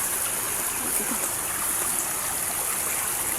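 A wild stream flows through the outdoors in a steady, even rush of water, close and constant with no clear voices over it.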